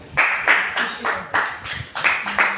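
A church congregation clapping hands in quick bursts of rhythmic claps, close and loud, with a voice speaking between them.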